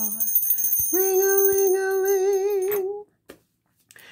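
A bell rings once with a clear, sustained tone that wavers slightly and holds for about two seconds before cutting off. A few faint knocks follow in the quiet.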